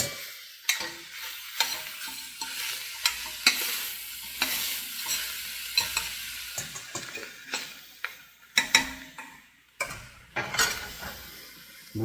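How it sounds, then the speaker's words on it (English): Ground beef fries in a pot while a utensil stirs and scrapes it, making sharp intermittent clicks and scrapes over a soft, continuous sizzle. "So I'm adding my ground beef."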